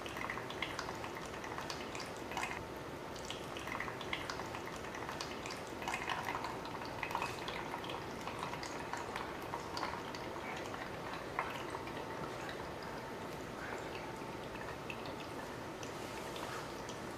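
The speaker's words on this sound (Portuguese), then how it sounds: "Por último, filtrarei a água com farinha de trigo." Water mixed with wheat flour drips and trickles through a filter in a classroom experiment on aqueous solutions, a steady, faint, continuous wet patter with small splashes and no speech.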